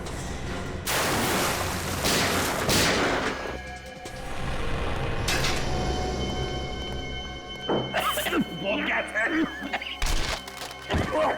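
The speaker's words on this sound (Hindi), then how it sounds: "बाहर गोली चलने की आवाज" Gunshots ring out outside in a TV crime drama, a series of sharp, loud bangs spaced irregularly over several seconds, mixed with dramatic scoring and people talking.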